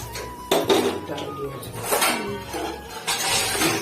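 A spoon clatters against a metal pot while milk is stirred into dhaba-style milk tea in a home kitchen, with repeated clinks and scraping in uneven bursts, fairly loud and close.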